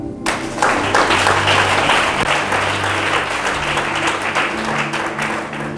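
A church congregation bursts into loud, sustained applause, a dense wash of clapping that swells quickly and holds steady for several seconds before easing slightly.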